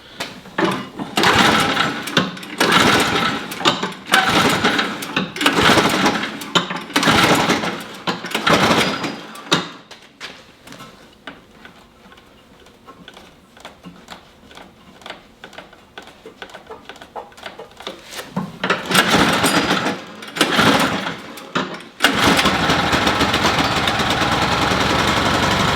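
A Toro snow blower engine with the choke turned runs erratically: close, rough stuttering bursts surge and drop out repeatedly, then settle into a steadier loud roar at the end, with no talking.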